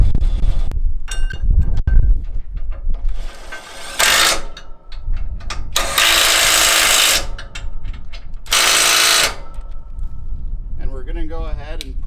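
A power tool bolting a plate onto the front of a MacDon FD2 header, heard as loud ratcheting bursts and sustained whirring runs of a few seconds each, with pauses and some nearby voice between them.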